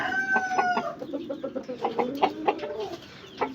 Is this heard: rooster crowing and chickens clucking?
yes